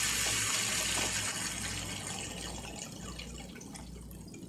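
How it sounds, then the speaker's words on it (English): A reverse osmosis water system dispensing into a sink, a steady soft hiss and trickle of running water that fades slightly toward the end, fairly quiet with no talk. "It's dispensing into the sink here."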